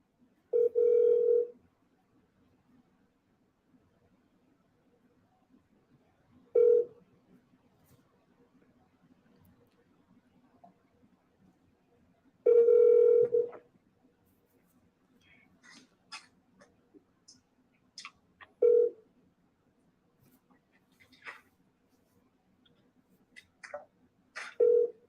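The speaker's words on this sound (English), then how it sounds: "I'm gonna call again." A telephone rings out on a call to brokers in Nashville, with evenly spaced ringback tones about every six seconds, close and clear, separated by quiet gaps with small clicks and faint rustling.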